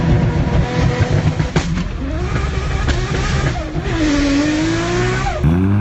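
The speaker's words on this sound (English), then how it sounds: "You can really hear the high-strung race-derived sound in the RB26." A Nissan RB26 engine with a high-strung, race-derived character revs hard and loud up close, its pitch climbing and falling through sweeping runs with no talk over it.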